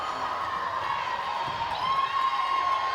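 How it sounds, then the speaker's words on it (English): Zimbabwean fans in the stands at a hockey match, Australia v Zimbabwe, give a steady, distant crowd roar of cheering and whoops that holds throughout. "the Zimbabweans in the crowd, willing their team on"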